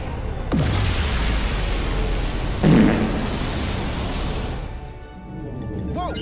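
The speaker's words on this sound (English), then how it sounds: "Whoa! Dilithium explosion." A dilithium crystal blows up in the sci-fi adventure game Star Trek Resurgence, a loud, sustained roaring rumble with a sharp burst partway through, fading into a lower drone.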